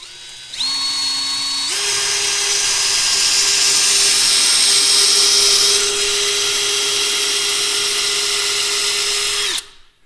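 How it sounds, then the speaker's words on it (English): A power drill bores pilot holes into a wooden wall stud while framing a small cabin loft wall, a steady loud whine that holds for about nine seconds, close by with no talking. "But I'm still piloting my holes because I don't want this to split."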